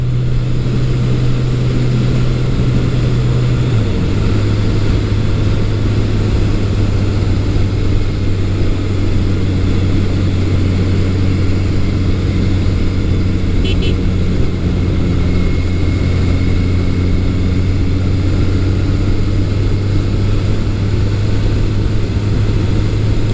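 A 1983 Suzuki GS1100E motorcycle engine on a test ride, a loud, steady low drone that holds an even cruising pitch, shifting down briefly near the start, with constant wind rush over it and no speech.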